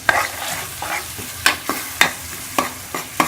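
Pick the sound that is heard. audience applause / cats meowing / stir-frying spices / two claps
stir-frying spices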